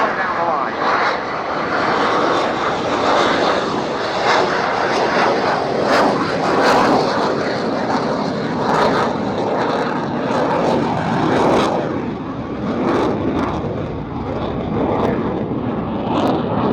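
A Czech Air Force Saab Gripen fighter jet flies at Yeovilton Air Day, its loud, sustained engine roar rising and falling as it passes, with a commentator talking over it throughout.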